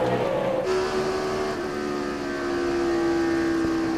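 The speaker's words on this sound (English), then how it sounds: "then you really hammer the throttle as you're coming off the corner" A race car at the 2006 Dickies 500 accelerates hard off a corner, a high engine whine holding a steady pitch and then dropping as it shifts, with crowd and track noise beneath.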